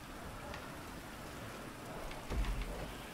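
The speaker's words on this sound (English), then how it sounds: "It's raining." Steady rain falls throughout a video game scene, a dense even patter with a brief heavier rumble near the end, no voices.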